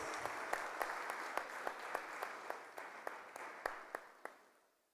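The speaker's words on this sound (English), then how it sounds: "A big round of applause." At a national convention technical session, a hall audience gives a short round of applause, with scattered distinct claps over a soft wash that fades out after about four seconds.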